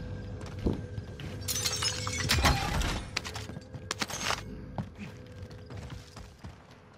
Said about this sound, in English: You broke glass?